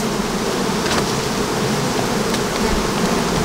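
Honey bees swarm around an opened hive at an apiary during the honey harvest, a dense, steady buzzing that fills the air without pause, close and loud, with no voices.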